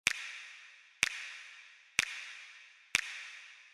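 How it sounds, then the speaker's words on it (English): Four sampled finger snaps evenly spaced about a second apart, each sharp crack trailing into a long, wet, boomy dedicated reverb tail that fades before the next. "Now moving on to this snap"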